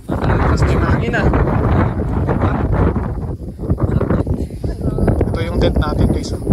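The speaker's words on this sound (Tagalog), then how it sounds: "Tapos may mahangin na." Gusty cold amihan wind buffets the microphone at a hillside campsite with tents set up, a loud, rough roar that swells and dips throughout while a person talks briefly underneath.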